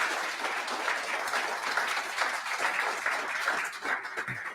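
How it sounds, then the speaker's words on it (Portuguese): A church congregation at an evening family service claps for Jesus, a continuous, moderately loud patter of hands that stays fairly steady throughout. "Dê um aplauso para Jesus."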